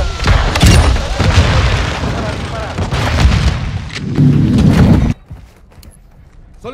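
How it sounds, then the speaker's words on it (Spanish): A mortar strike lands in a Call of Duty: Modern Warfare II match as heavy booming explosions and loud battle noise, with a player talking over it, before the sound drops off abruptly near the end. "Ataque de mortero lanzado."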